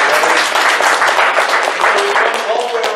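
A convention panel audience at AnthrOhio 2018 breaks into dense, lively applause, loud and continuous throughout with scattered hand claps close in and some voices mixed into the crowd noise.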